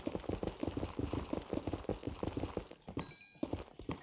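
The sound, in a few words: footsteps in Minecraft, video game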